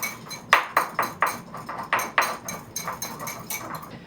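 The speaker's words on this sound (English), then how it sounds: "it's time for my favorite tool in the kitchen, a baby whisk" A small baby whisk clinks against a bowl while mixing cinnamon sugar, a run of quick metallic taps in an uneven rhythm, close and crisp, tapering off toward the end.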